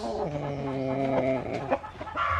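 Chickens and a rooster cluck close by in a breeding pen, giving loud, harmonic calls as one bird is caught.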